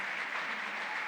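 Steady crowd applause for Francesca Rainieri, the first woman to preside over AmCham, at a formal event in the Dominican Republic; dense, even clapping that fills the whole moment without a break.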